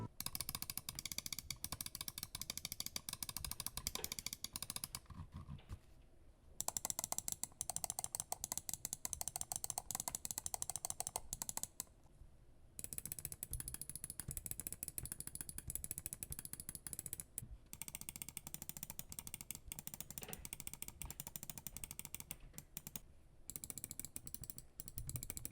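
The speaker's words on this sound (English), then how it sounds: "Here's what the mouse clicks sound like and how they compare to some other popular mice." Crisp, rapid mouse clicks from a Razer Viper Ultimate and several other popular mice, heard up close in bursts of quick tapping separated by brief silent gaps, with no talking.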